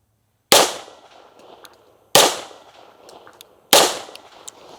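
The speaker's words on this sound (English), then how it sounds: "I'm gonna shoot a little more" Three loud, sharp pistol shots ring out during a Sig shooting drill outdoors, evenly spaced about a second and a half apart, each a crisp crack with a short decaying tail and near silence before the first.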